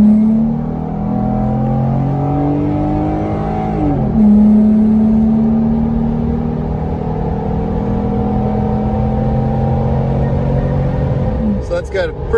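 A Jeep Wrangler JK fitted with an Injen Evo cold air intake accelerating on the road, a loud steady engine drone heard from inside, with pitch climbing and dropping around a gear change as a voice talks over it.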